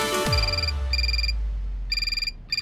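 A telephone ringtone sounds in bursts of bright electronic trills, first two short rings, then after a pause a rapid warbling ring that cuts off and starts again, loud and close with a low hum beneath.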